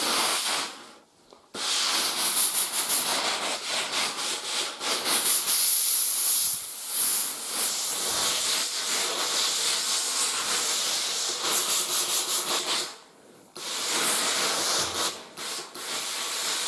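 Laurastar Steamax G2 735 steam generator iron blasting steam into a towel, a loud broad hiss sustained for long stretches with brief pauses where the jet cuts out, then resumes.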